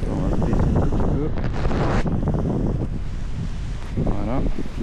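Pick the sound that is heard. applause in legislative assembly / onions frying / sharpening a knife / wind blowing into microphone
wind blowing into microphone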